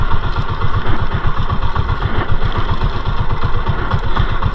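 A small boat's engine runs slowly at low throttle while holding against the current on a lobster-hunting trip near an island, a steady loud chugging rumble with even rapid pulses and no pauses.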